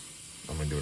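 A NEDOECO airbrush sprays paint in a short burst of steady, close hiss that starts abruptly about halfway through after near-silence.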